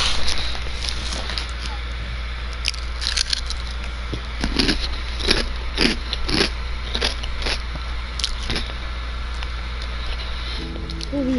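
Someone munches vegetable sticks close to the microphone, a string of irregular crunchy bites over a constant low background rumble.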